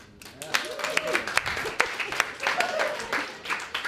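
A comedy club audience gives scattered applause for single people, a sparse, fairly quiet patter of clapping with a few voices and whoops mixed in.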